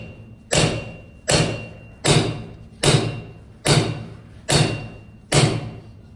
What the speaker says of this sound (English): For upper hinges, you can invert your Halligan, which will give you a better striking angle to try to reach the top hinge.